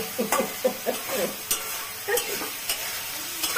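Gima greens fry in oil in a pan, sizzling steadily while a utensil stirs them in a series of scraping strokes, heard up close with faint talking in the background.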